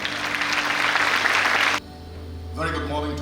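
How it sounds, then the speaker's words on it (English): A school annual-function audience claps to welcome the principal, broad applause for about two seconds that cuts off abruptly, followed by a low hum and a voice starting to speak. "Please welcome him with a huge round of applause."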